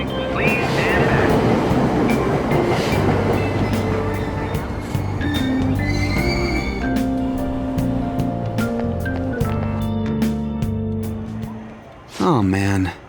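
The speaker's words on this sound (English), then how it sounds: "Watch your step. Train doors are now closing. Please stand back." A subway train in the video game Persona 5 Royal rumbles and clatters with steady mechanical hum and chimes, ending in a short burst of door-closing tones.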